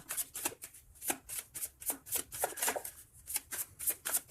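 Tarot cards being shuffled and drawn by hand, a quick run of soft rhythmic riffles and flicks, close and quiet, with no speech.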